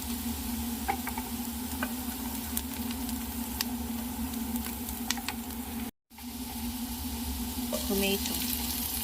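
Garlic and onion fry in a pan for red chicken kabsa, a constant sizzle with a few light stirring clicks, a low hum underneath and a brief dropout midway.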